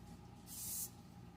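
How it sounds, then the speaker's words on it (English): A single short hiss of cooking spray onto a work surface for pizza dough, about half a second, fairly close, over a low steady background hum. "you're going to spray your work surface lightly"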